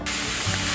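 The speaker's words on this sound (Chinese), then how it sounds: "锅内放入适量的油，油已经热了，放入金针菇。 用中小火慢慢的炒" Enoki mushrooms hit hot oil in a flat-bottomed wok over medium-low heat, a brief, loud, dense hiss of sizzling that stays steady throughout.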